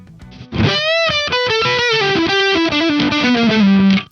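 An electric guitar plays a short melodic phrase with a distorted, slightly muffled tone from a low-pass filter set about halfway, ending on a held note; loud and close, no voices.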